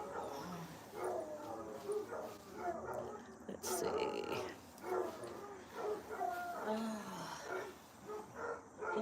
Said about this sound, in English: Can you guys hear them barking?